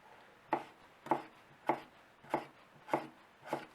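Knife slicing boiled potatoes thin on a board, six evenly spaced soft thuds roughly every half second, close and fairly quiet, with no talking.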